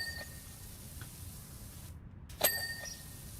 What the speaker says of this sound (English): So we'll just keep spraying things down